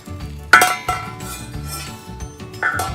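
Stainless steel lids from 5-quart and 3-quart Belgique sauté pans clink and clatter as they are handled, with a few sharp metallic rings among softer knocks, close and alone.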